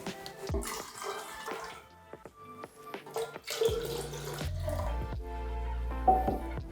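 Vinegar and water poured to mix a film stop bath for home developing, a running, splashing liquid pour with drips and clinks of containers, fairly close and steady through the whole stretch.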